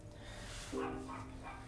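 A pet dog gives a single short bark followed by a faint whimpering whine, quiet and at some distance indoors.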